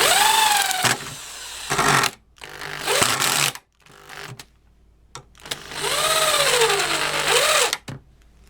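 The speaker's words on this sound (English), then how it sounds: "Then we're gonna put them in with the drill." A Black and Decker KR705K corded hammer drill drives screws in several bursts, its motor whining up and down in pitch between short pauses and stops, loud and close.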